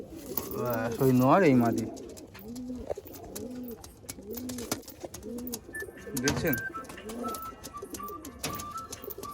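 Madrasi pigeons, males and females, in a loft give repeated rolling coos in a steady rhythm close by, while someone talks over them in places.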